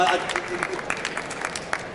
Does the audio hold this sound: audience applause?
yes